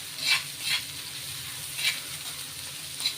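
Chopped onion sizzles steadily in a pan while a spatula scrapes through it in a few quick, evenly spaced strokes.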